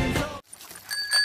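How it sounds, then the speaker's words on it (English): A bell on a small children's bicycle rings in a brief bright burst, followed by a couple of fainter high metallic rings after a short pause. "And this is the bell."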